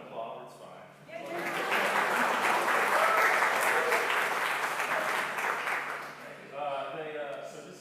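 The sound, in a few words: audience applause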